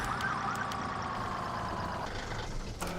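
A wailing electronic siren on Tanker 75, a Pierce fire tanker truck at Station 75 of the Duggan Hills Fire Company, sounds steadily for about three seconds, moderately distant and without talk.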